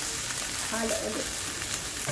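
Scallops, asparagus and sweet bell pepper sauté in a pan with a little water and salt, giving a continuous close sizzle with faint scraping as they are stirred.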